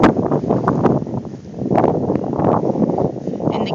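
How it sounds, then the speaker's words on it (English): Wind buffets the microphone outdoors during a snowy February blizzard in the south suburbs of Chicago, a loud, gusty rumble that surges and dips unevenly throughout. "it's really cold, windy out here"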